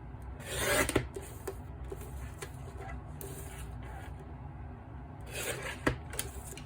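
Paper card sentiments are trimmed with close, dry rasping and rubbing strokes in short bursts, with a few small taps and handling noises between them.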